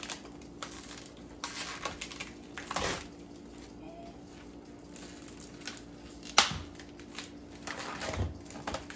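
Plastic-wrapped packages of raw chicken being torn open and handled in a home kitchen, with irregular crinkling, rustling and squishing at close range, a few sharper rips standing out, and no talking.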